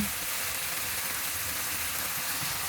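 Steady, dense sizzling of thin meat frying in hot oil, an even crackling hiss that holds at a constant level throughout, close up with no talking.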